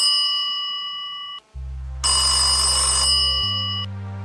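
An electronic telephone ring sounds alone: steady bright tones, a brief gap, then a louder, denser burst of ringing that gives way to lower steady tones.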